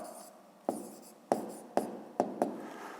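Pen writing an answer by hand on paper during a 5th-grade math exercise, a quiet run of short scratching strokes with five sharp taps as the pen meets the page, close and alone.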